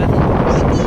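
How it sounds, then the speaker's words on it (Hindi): Cool wind rushing outdoors before rain, a dense, loud, steady roar buffeting a nearby microphone for a brief moment. "आप मन देख सकते हो पूरा अच्छा ठंडा ठंडा हवा चला थे"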